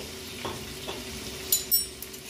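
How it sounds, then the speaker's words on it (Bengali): Chicken and cauliflower stirred in a pan with red chili sauce, a few soft scrapes and a couple of light utensil clinks over a faint sizzle, quiet and brief. "দিয়ে এটাকে নাড়াচাড়া করে নেব।"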